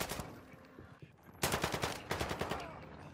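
A turret in a video game fires rapid bursts of gunfire, near and loud, in a dense rattling stream after a short lull.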